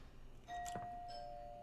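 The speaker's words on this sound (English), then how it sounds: "And that's a doorbell, and I don't like that." A doorbell chimes in the video game Date Everything, a single clear electronic ding with a tone that lingers faintly, heard alone and fairly quiet.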